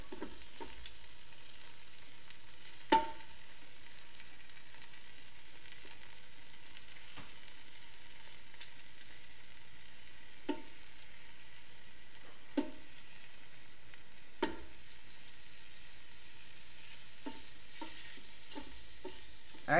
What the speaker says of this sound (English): And that sizzle, that's what I want to hear.